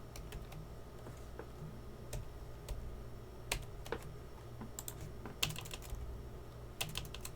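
Commands go into a network router config on a computer keyboard, heard as steady, close key taps with scattered louder strokes over a quiet room hum, no voices.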